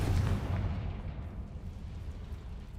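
A Confringo blast spell explodes in the Hogwarts Legacy video game, a loud booming burst up front that rumbles and fades over about three seconds.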